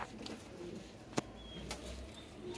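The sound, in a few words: pigeons cooing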